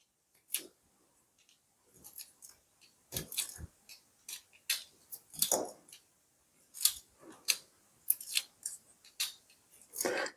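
Scissors cutting slits, likely in electrical tape, for wheel weights on a Redcat Ascent Fusion RC crawler: crisp close snips in irregular bursts, some rapid runs of several cuts, alone without talk.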